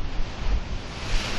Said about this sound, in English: you have these massive waves on top of them that are just chewing away